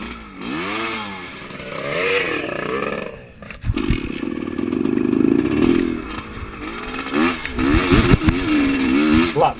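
A vintage motorcycle revs during a race lap at AMA Vintage Motorcycle Days 2018, rising and falling in uneven bursts, close up and fairly loud, with mechanical clatter between the revs.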